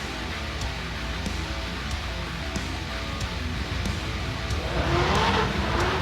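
A nitrous-equipped drag racing car runs down the strip in a sustained, distant engine roar that swells near the end, with faint tire noise and no voices.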